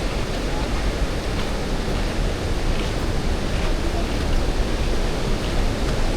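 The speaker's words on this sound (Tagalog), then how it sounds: "Ang lakas ng agos." Powerful river current roars at Pagsanjan Falls, a dense, steady, loud wash of rushing water that stays constant throughout, with no breaks.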